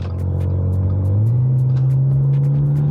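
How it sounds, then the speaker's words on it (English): A loud supercharged engine in an Audi S5 tuned to about 470 horsepower hums and builds as the car accelerates, a rising supercharger whine climbing steadily over the deep rumble. "Listen to that supercharger whine."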